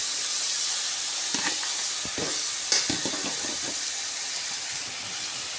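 Mushrooms tossed with shallots into a hot aluminium pan give a steady, bright oil sizzle and hiss throughout, with a few soft stirring scrapes and knocks in the middle.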